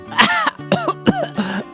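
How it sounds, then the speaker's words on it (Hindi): A man coughs hard in several harsh, hacking bursts after eating spicy boiled egg soup, with rasping throat-clearing between the close, loud fits. "उसे बहुत तेज खांसी आने लगती है।"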